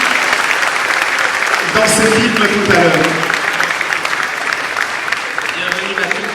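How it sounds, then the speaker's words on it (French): An audience applauds activists at a French cultural event and film screening, a loud continuous wash of clapping that runs throughout while someone speaks over it. "Est-ce qu'on peut applaudir les militants de la lucha"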